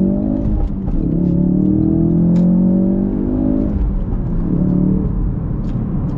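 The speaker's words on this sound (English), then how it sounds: "Let's get a little acceleration here." Ford Focus RS in sport mode with traction control, accelerating on a canyon road: the engine climbs through rising revs, drops briefly as it shifts, then pulls up again, loud and close with no talking.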